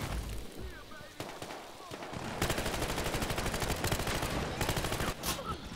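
Dense automatic gunfire from the Battlefield Hardline beta, sustained bursts of rapid shots crackling at close range with scattered single reports, set in a Conquest match, with a voice talking briefly underneath.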